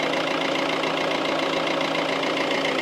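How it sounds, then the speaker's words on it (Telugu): A Maruti Suzuki Ciaz VDI+ diesel car idling: a steady, even engine hum with a low, constant drone throughout, close and unchanging, with no voices. "వెహికల్ ఇంజిన్ స్టార్ట్లో ఉంది"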